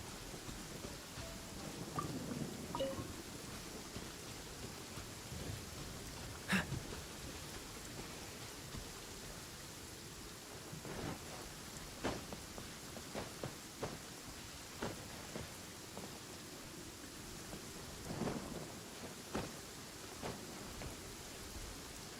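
Steady rain falls with several soft distant thunder rumbles in the video game Genshin Impact, a constant wash of rainfall without talk.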